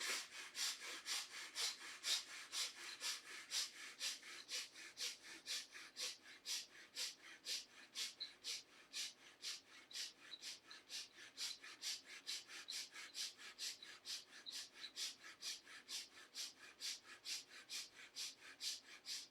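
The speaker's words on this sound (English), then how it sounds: "start breathing quick and fast from the chest" Rapid, forceful chest breathing during a guided practice, a steady run of quick, short breaths repeating evenly and close, with no talk over them.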